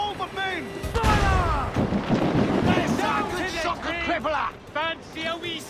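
Ship cannons boom in a naval battle in Assassin's Creed IV Black Flag, heavy blasts with a loud roar near the start, under shouted crew voices and wind.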